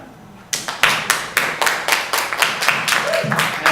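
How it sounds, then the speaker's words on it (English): An audience at a plurilingual conference event breaks into clapping, starting abruptly and continuing as a close, steady round of applause with distinct individual claps. "So let's give her a clap."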